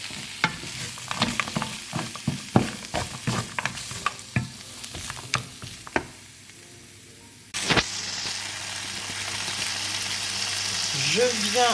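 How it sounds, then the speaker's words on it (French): Vegetables sizzle in a frying pan with repeated bursts of scraping and stirring, then a steady loud fry hiss takes over near the end. "Je viens ensuite régulièrement mélanger."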